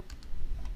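Several quick key presses on a computer keyboard, soft and close, a short burst of light clicks with no talking.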